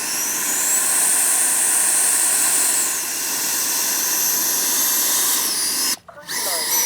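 Freewing 80mm F-22 RC jet braking with reverse thrust, a loud steady high-pitched ducted-fan whine with a shifting tone, cutting out abruptly for a moment near the end before resuming.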